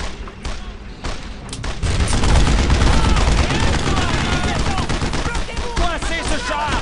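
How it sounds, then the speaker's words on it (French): Suppressing gunfire in the World War II video game Brothers in Arms: Road to Hill 30, a dense, continuous fusillade of rifle and machine-gun shots with heavy booms, loud and close, with shouted voices mixed in. "Tire de suppression."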